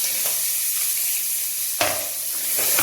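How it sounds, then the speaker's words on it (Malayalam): Small onions sizzle in hot coconut oil for a hotel-style sambar, a steady close frying hiss with a few sharper crackles and stirring bursts. "അതിനുശേഷം നമ്മളെടുത്ത് വെച്ചിരിക്കുന്ന ഈ ചെറിയ ഉള്ളി ഇട്ട് കൊടുക്കുക."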